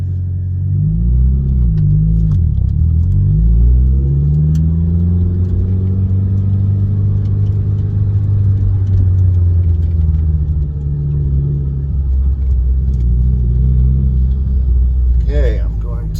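A Mitsubishi Lancer Evolution 6 drives off and accelerates, its engine a loud, steady rumble close by with rising and falling rev tones through the gears for the whole stretch.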